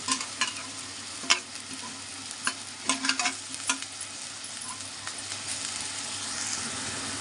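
Green chillies fry in hot oil in a pan for a chicken curry, a steady sizzle broken by irregular scrapes and clatters as a spoon stirs them.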